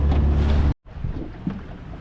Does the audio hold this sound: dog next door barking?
no